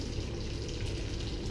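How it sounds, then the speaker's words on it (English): Lamb shank ragu sauce pours from a saucepan into a colander, a steady wet, splashing gush that runs close and fairly loud for the whole stretch. "I'm going to take my sauce. I'm going to pour that"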